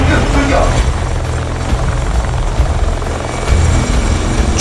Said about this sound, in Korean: 출격 명령과 함께 공격용 헬기인 링스 헬기가 갑판 위에서 굉음을 내며 날아오른다